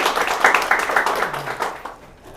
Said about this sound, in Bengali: হাততালি হবে জোরে।